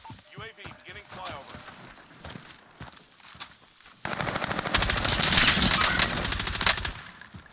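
Sustained automatic gunfire in the Warzone video game, quieter at first under a man's speech and footsteps, then a loud, dense machine-gun burst lasting several seconds.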